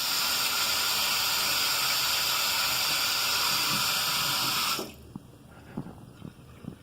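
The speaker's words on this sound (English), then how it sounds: "Now I use both sides, so I'm going to rinse it off." Tap water runs steadily as a safety razor is rinsed under the faucet during a shave, a loud continuous hiss that cuts off abruptly near the end and leaves a few faint taps and clicks.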